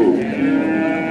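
A cow at a busy village cattle market in Hazratpur gives one loud, deep, sustained moo, very close and steady throughout.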